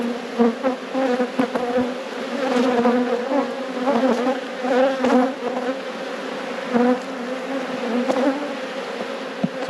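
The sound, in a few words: honey bees buzzing around an opened beehive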